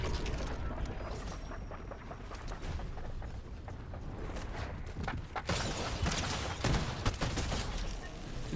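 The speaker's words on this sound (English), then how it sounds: "the mythic Warforged shoots faster over time" A mythic Warforged gun in Fortnite fires in rapid bursts, with sharp repeated shots and mechanical clatter that grows denser and louder toward the end.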